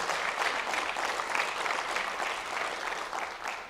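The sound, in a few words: audience applause for FFA students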